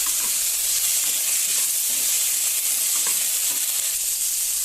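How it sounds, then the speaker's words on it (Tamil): Steady, bright sizzling of tomato sautéing in a hot pan, with faint stirring scrapes now and then, close and continuous without any talking. "ஒரு தக்காளி மட்டும் ஆட் பண்ணிட்டு இதை வதக்கிக்கலாம்"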